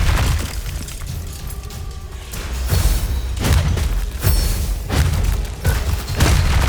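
Incendio fire spell from Hogwarts Legacy, heavy booming bursts and thuds striking roughly once a second, loud and close amid a busy combat din with no talking.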